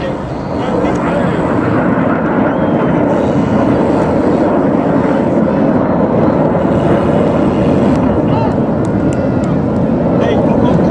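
RAF Red Arrows display jets roaring overhead in a flying display at Peterhead during Scottish Week 2022, a loud continuous broadband jet rumble filling the whole stretch with a commentator speaking over it.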